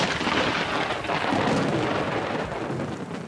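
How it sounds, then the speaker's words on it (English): Torrential rain roars steadily in a thunderstorm in Namibia's Central Highlands during the wet season, a dense broadband wash with a low thunder rumble rolling beneath it, loud and continuous throughout. "I've witnessed incredible storms and torrential downpours."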